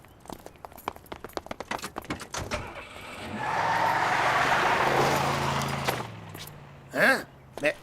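A cartoon car pulls up with a rising engine drone and a long skidding screech, set between bursts of animated clatter and effects, then a short sharp sound follows near the end.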